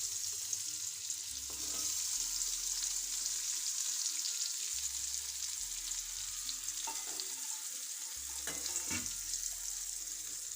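Sliced onions frying in a pan for a Gujarati onion sabzi, a steady close sizzle with bursts of hiss and occasional stirring scrapes throughout, no voices.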